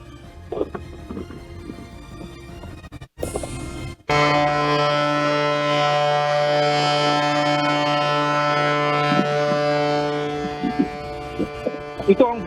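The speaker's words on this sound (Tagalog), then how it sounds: "Ito ang busina mula sa Chinese vessels" Chinese vessels at Escoda Shoal sound a long, steady horn blast that holds for several seconds at a loud level, preceded by quieter murmuring background and a sharp break.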